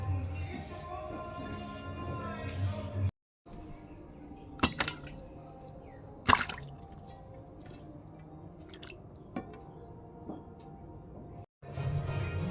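A knife cuts through a guava in a home kitchen, giving several sharp, crisp crack-like cuts and squishy slices spaced apart, close and fairly distinct over a quiet background.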